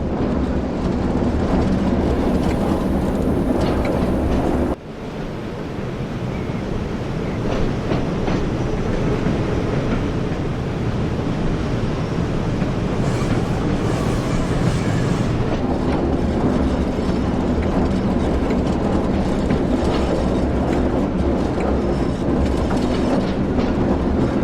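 A Northern TransPennine train in Train Sim World 4 rolls steadily along the rails, a constant rumble with faint clickety-clack and occasional higher squeals, briefly interrupted by a sudden cut early on.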